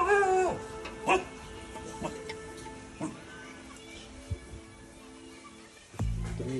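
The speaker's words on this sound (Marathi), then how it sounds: "कुत्री गल्लीतली कुत्री रडालाय" A street dog in a lane in Miraj whimpers and yips in short, high, wavering cries, spaced out over several seconds, with a sudden low thump near the end.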